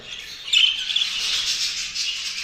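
Show budgerigars chirp continuously in a breeding cage, a dense, bright chatter of overlapping tweets and warbles, fairly loud and close, with no talking.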